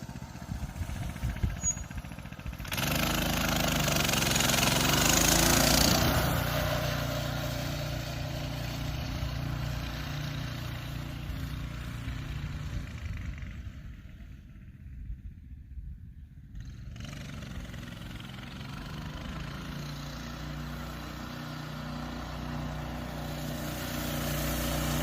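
Small Coleman CT200U-EX minibike engine droning steadily while being ridden on a road and driveway, a continuous mid-pitched motor hum that swells, dips around the middle, then holds on; no talk.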